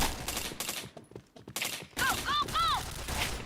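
Gunfire in the video game Point Blank comes in quick, sharp bursts and rapid volleys separated by brief gaps, with electronic game tones ringing near the end.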